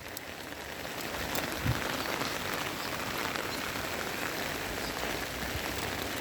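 Steady rain falls around the Golden Pagoda in Arunachal Pradesh, a constant even hiss of drops on surfaces with a brief nearby thump, no voices.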